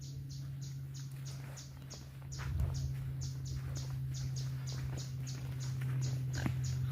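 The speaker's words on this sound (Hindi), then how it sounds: "आपको चिड़िया की चहचहाहट सुनाई दे रही होगी" Birds chirp in the lush green forest around the Bhimbetka caves in Madhya Pradesh, giving quick, evenly spaced high calls that repeat steadily throughout over a constant low hum.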